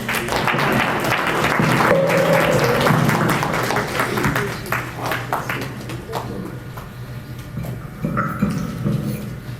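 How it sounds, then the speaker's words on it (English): Audience at an Indian American Business Council Gandhi Jayanti event applauding for Dr. Bharat Barai, sustained clapping that stays full for several seconds, then breaks into scattered claps with faint voices underneath. "Please join your hands and a round of applause for Dr. Bharat Barai."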